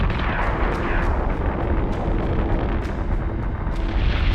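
Sustained heavy weapons fire aboard a warship in the space combat game Battlestar Galactica Deadlock, a dense continuous barrage of booming artillery blasts with sharp repeated cracks, loud and unbroken throughout.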